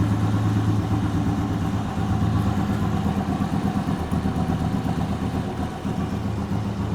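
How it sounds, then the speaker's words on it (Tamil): Vintage vehicle with an original England-made meter, its engine running steadily after a hand-crank start, a loud, close, continuous idle with a rhythmic clatter throughout. "நம்ம ரொம்ப யூனிக்கான வே ஆஃப் அந்த காலத்து டெக்னிக்கில் நம்ம ஹேண்டில் ஸ்டார்ட் பண்ண போகிறோம்"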